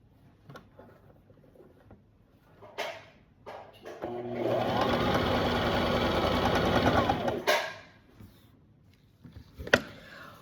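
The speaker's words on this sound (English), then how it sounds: "I tried to sew with my sewing machine" A sewing machine whirs steadily for a few seconds, then stops, with quiet handling noises and knocks before and after.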